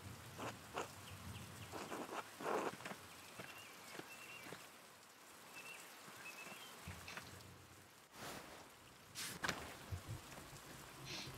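Rain in the medieval video game Pentiment: a soft, steady patter of raindrops with scattered louder drips and taps, faint and continuous throughout.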